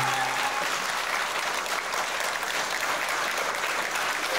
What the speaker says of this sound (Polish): a te brawa były stanowczo za słabe